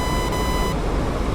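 A high, steady electronic cockpit warning tone in a jet flight simulator game sounds over a dense engine roar, then cuts off, leaving the constant rumble alone.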